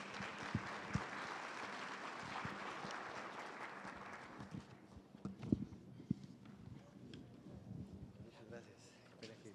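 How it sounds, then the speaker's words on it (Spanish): Audience applause at a morning business forum, dense clapping for several seconds that fades into scattered claps and room noise. "Démosle un aplauso."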